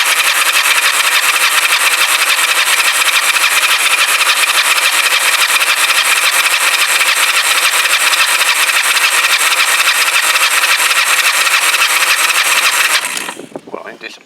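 A Kawasaki GPZ500S motorcycle engine, partway through a teardown, cranks steadily on the starter with the throttle wide open and the ignition on. It gives a loud, close, continuous whirring drone for about thirteen seconds before stopping abruptly.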